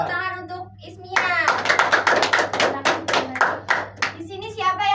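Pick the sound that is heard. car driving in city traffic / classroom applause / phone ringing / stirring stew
classroom applause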